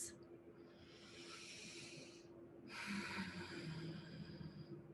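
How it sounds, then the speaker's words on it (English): Slow, deep breaths taken during a quiet mindfulness moment: two long airy exhales close to the microphone separated by a short pause, soft and unhurried with faint background hum. "taking a breath, a couple breaths"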